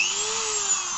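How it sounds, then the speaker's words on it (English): Small hand or power drill bit boring into a plastic Tauroxmodel part, a steady high whining tone that holds for about a second, close and alone. "this is a lot easier if you've got a drill bit"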